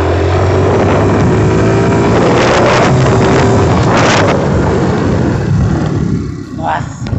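A motorcycle accelerates on the road, its engine roar buried under heavy wind rush against the rider's microphone, loud and continuous before easing off toward the end.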